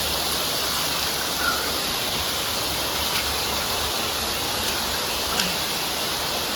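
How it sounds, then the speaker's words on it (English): A small waterfall inside a cave pours with a steady, even rush of water that stays constant and fairly close throughout, with no voices. "now I have to climb this little waterfall here."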